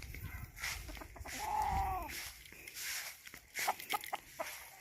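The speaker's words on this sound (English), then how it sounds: "They have plenty chicken." Chickens and a rooster on Kauai cluck close by, with a short warbling crow-like call mid-way and a run of sharp clucks toward the end, over low rumbling outdoor noise.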